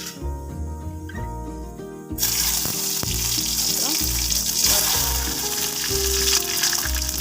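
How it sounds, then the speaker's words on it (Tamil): Mustard seeds frying and spluttering in hot oil for a sambar tempering, a busy crackling sizzle that jumps louder partway through and keeps popping steadily with no talk. "எண்ணெய் காஞ்சிட்டு கடுகு போட்டுக்கலாம் கடுகு போட்டு பொறிஞ்ச உடனே"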